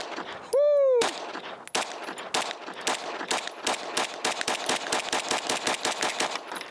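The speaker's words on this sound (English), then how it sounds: "We're going to shoot some Super Veil 124 since we're running this ported gun and see how these do." Bul Armory Tac Pro 5-inch ported pistol firing Super Veil 124 rounds at 10 yards on a range: one loud shot, then a rapid string of about twenty closely spaced, sharp reports in a quick steady rhythm.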